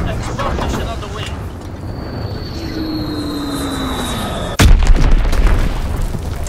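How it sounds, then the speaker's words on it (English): A Flitzex bombing run in Call of Duty WWII, with an aircraft droning and whining overhead followed by a loud, sudden bomb blast and a rumbling, crackling aftermath. "Dropping Flitzex bomb."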